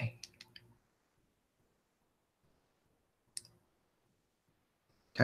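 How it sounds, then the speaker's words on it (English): Typing on a computer keyboard: a quick burst of clicks at the start, a long quiet pause, then another short cluster of clicks, all fairly close and soft. "Typing."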